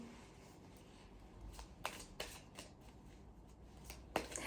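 A tarot card deck is riffled and shuffled at close range. The crisp card flutters come in several short bursts over a quiet, low background, and no one speaks.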